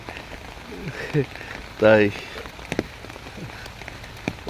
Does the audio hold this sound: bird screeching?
no